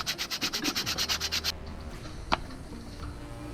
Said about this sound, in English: now I'm going to sort of sand this up, get this top looking all nice